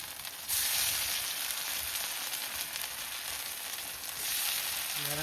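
Chicken frying in hot oil in a pan, a steady, loud, continuous sizzle with crackling spitting that swells slightly at the end, no talking over it.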